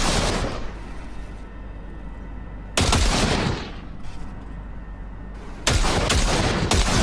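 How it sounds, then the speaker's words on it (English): Two short bursts of automatic gunfire from Cyberpunk 2077 gameplay ring out loud and close, each followed by a fading echo tail, with a quieter stretch of ambient room tone between them. "Fire a short burst into it."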